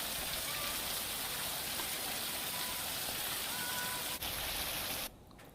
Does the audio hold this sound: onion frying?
no